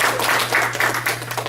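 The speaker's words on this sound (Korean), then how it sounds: "우리 사랑하는 우리 유스 그룹에게 다시 한번 박수 드리겠습니다." Church congregation applauding the youth group at a graduation service: loud, close, dense clapping from many hands, with a hum running underneath throughout.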